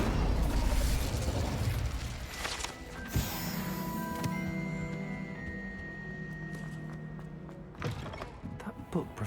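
A fire spell from a Harry Potter wizard game bursts out with a heavy boom, then a crackling, ringing magical burn. Rumbling effects and a few later impacts surround it, and there is no talking.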